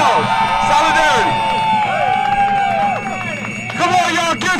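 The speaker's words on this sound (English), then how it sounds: "Give yourselves a big round of applause." A large crowd at a Rutgers rally claps, cheers and whoops loudly, with rising whistles and yells throughout and a fresh surge of cheering near the end.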